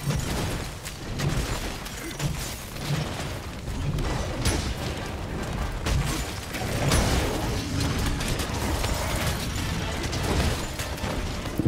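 The Switch Axe unleashes a charged blast attack against the monster Anjanath in Monster Hunter World, a long run of crackling bursts and booming impacts layered with mechanical clanks, steady and loud throughout.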